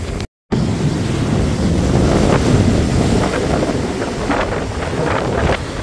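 Sea waves roll and wash along the Black Sea shore in Crimea, a continuous broad roar mixed with wind buffeting the microphone, loud and close, with a brief cut near the start and no talk.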